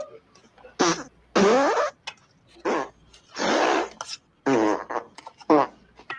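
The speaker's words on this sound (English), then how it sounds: "it's a fart joke" Comedic flatulence from the campfire beans scene in a Mel Brooks western film, a string of loud, spluttering bursts repeating in quick succession with brief gaps between them.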